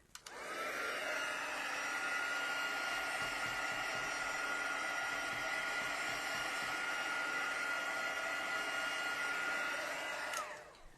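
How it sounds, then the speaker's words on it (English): A craft heat tool blows steadily while drying a freshly painted card panel made with a Stampin' Up! Black Ice painted-texture technique, a loud, constant whooshing hum that starts abruptly, holds for about ten seconds alone, then cuts off. "Heat tool coming."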